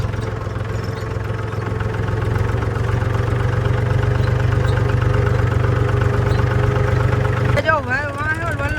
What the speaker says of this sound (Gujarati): દેખાય તો અહીંયા જવા દે ટ્રેક્ટર